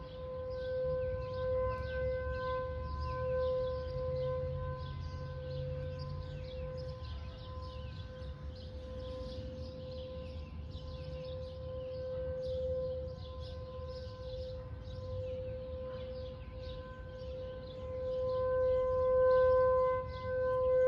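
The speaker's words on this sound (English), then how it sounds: "That is the siren in front of Black Hawk Elementary School." A tornado warning civil defense siren stands in front of an elementary school and drones continuously at a steady pitch, moderately loud, with a low rumbling background and no talking.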